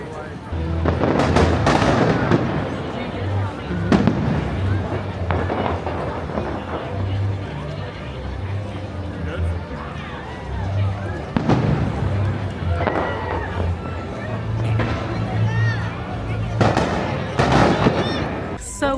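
A Disneyland fireworks show bursts overhead on a crowded holiday night, with repeated booming explosions and crackles arriving in irregular volleys. A steady hubbub of the crowd and scattered voices runs underneath.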